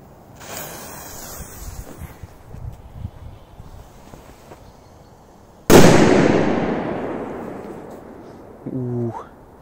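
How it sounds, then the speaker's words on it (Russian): K-44 firecrackers thrown into wet grass give one sharp, loud blast whose rumble dies away over a few seconds, after a stretch of wind and small rustles, followed by a brief closing burst. "давайте побросаю в траву. Посмотрим взрывы."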